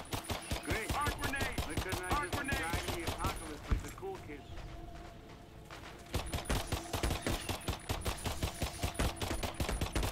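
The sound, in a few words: pistol gunfire in the video game Earthfall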